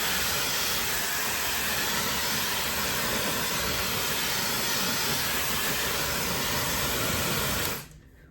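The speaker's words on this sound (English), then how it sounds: "I'm gonna dry it without nozzle a little bit" A hair dryer blows steadily on its hot setting with the nozzle removed, a loud, even broadband rush of air that runs for about eight seconds and then cuts off abruptly.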